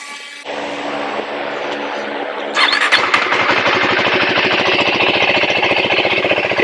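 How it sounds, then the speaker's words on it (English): A 2025 KTM 390 Enduro R single-cylinder motorcycle with an aftermarket Cobber fuel controller cranks with a whirring starter, then catches and settles into a loud, steady idle close by. "let's go ahead and try to start the bike up"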